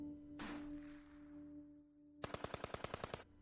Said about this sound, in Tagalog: Nang biglang umalingaw-ngaw ang sunod-sunod na malalakas na pagputok at pagsabog.